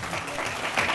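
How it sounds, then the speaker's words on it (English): An audience at a follow-up community event applauds, a steady burst of clapping filling the moment without a break. "the round of applause for all of their work"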